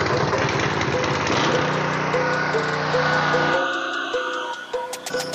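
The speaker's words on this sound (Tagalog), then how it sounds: "Buhay natin yung ating generator." A PHILKING 160A inverter welding generator engine runs at a steady, loud, buzzing idle, then drops off and sputters toward the end with a few clicks.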